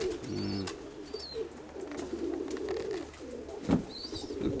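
A domestic pigeon coos softly several times outdoors, its low throaty notes repeating near the start and again later, with faint chirps and a brief flutter against quiet background ambience.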